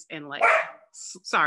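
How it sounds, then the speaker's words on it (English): Pet dog barking indoors at home, a few sharp, close barks in quick succession, with a person talking over and between them. "that's my dog"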